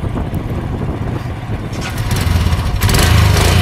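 A rented motorcycle on a mountain trip from Manali toward Zanskar with a fault that makes it cut out when the throttle is closed. The engine chugs at a rough idle up close, growing louder and harsher toward the end.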